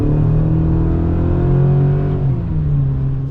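Turbocharged four-cylinder engine of a 2026 Chevrolet Silverado RST pickup pulling hard from a launch, a loud, steady rising drone close by with a slight dip toward the end.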